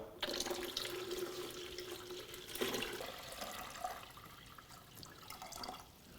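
Water runs steadily from a tap or jug into a container, a continuous splashing rush with a few small bumps and clinks.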